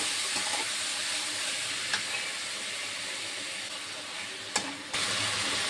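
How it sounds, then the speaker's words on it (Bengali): Bitter gourd frying with salt in a hot pan gives a steady, moderately loud sizzle that runs throughout, with a few brief clicks and scrapes of stirring. "এবারে উচ্ছেটা দিয়ে দেবো, দিয়ে দেবো লবণ, ভালো করে ভেজে নেবো।"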